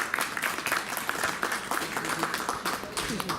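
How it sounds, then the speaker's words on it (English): Audience applause for a model at a fashion show in a war museum, steady clapping from a crowd over about three seconds, with a voice talking faintly underneath. "So a little round of applause for Louise."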